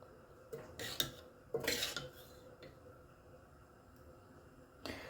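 Tamil kuzhambu (sambar) served from a pot, with a few separate clinks and scrapes of a metal ladle against the pot, close by, in a quiet kitchen.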